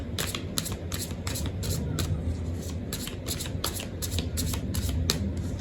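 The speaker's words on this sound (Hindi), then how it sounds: "और एक कार्ड मैं और निकालना चाहूँगी।" Tarot cards are shuffled in a steady, close riffling patter with rhythmic slaps every half second, continuous and fairly loud with no talk over it.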